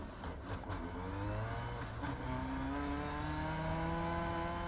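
Midget race car engine in iRacing at Volusia on Hoosier tires, a steady droning whine that climbs in pitch as the car pulls away, loud and continuous with no talk.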